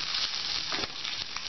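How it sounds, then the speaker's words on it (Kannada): Mutton chops fry in a pan over a medium flame, a steady close sizzle and crackle with a slight swell partway through, no voices. "ಸ್ವಲ್ಪ ಮೀಡಿಯಂ ಫ್ಲೇಮಲ್ಲೇ ಇದನ್ನ ಮಾಡಿ ಫ್ರೈ ಮಾಡಿ."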